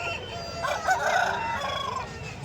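A rooster crows loudly over a steady hum of background chatter and noise at a busy poultry market in Kundarapalli.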